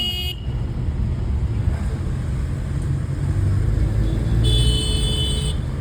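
Road traffic near a petrol pump where road works are underway, a low steady rumble of passing vehicles with a couple of short car horn toots, one near the start and one near the end.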